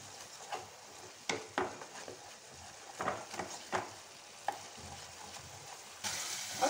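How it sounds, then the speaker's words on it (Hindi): Onions fry in a pan toward golden brown, a soft steady sizzle with repeated scraping strokes of a spoon stirring at an uneven rhythm, quiet and close, the hiss swelling louder at the very end. "प्याज को अच्छे से हमने गोल्डन ब्राउन कर लेना है और इसको अच्छे से हम चलाते रहेंगे जब तक ये गोल्डन ब्राउन ना हो जाए।"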